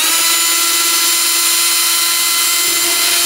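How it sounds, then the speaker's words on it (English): A power drill boring down through an archtop guitar's fretboard toward the neck pocket during a neck reset, a steady high whine running close and loud for the whole stretch with no talk. "I'm going to drill down through the fretboard until I find the pocket in the neck."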